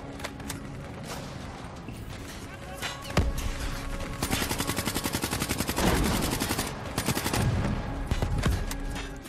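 Rapid automatic gunfire rattles through a combat scene in the video game Call of Duty: Black Ops 3, with dense bursts of shots and a few heavy impacts over continuous battle noise.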